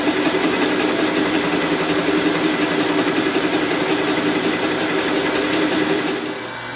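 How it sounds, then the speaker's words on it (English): Drill press boring into a wooden board against a fence, a continuous high whirring motor drone with steady cutting noise that drops off as the drill stops near the end. "fence on the drill press so that I'm always centered of the board as I'm drilling"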